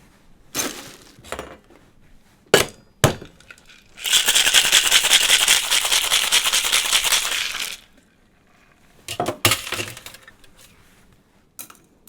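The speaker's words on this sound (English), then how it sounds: "I'm going to ice and shake these one at a time" A rum and Chartreuse Eclipse cocktail shaken hard with ice in a shaker, a dense rattling burst lasting several seconds, bracketed by separate clinks and knocks of glass and ice.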